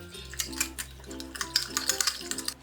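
Red chilli sauce, salt and sugar being mixed with a spoon in a bowl: close, rhythmic scraping strokes with light clinks repeating steadily, with no talk over them.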